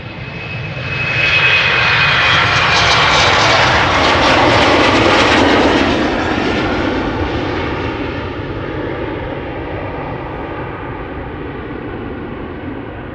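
Airliner jet engines roaring on departure from the Polderbaan runway at Schiphol Airport, a loud, broad rumble that swells over the first few seconds and then slowly fades as the aircraft climbs away.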